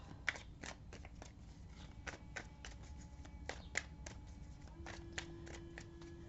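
Tarot cards shuffled by hand, a quiet run of repeated soft riffling and tapping bursts in an irregular rhythm, faint and close, with a low background hum and no talk.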